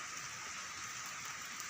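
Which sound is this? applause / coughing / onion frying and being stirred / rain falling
rain falling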